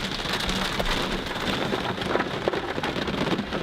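Steady, heavy rain pours down outdoors, a dense continuous hiss with scattered sharper drops spattering near the listener, loud and unbroken throughout with no voices.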